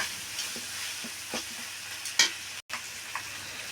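Gongura curry being stirred in a pan, quiet scraping and soft sizzling with a few sharp clinks of a spoon against the metal, heard close and with no talking.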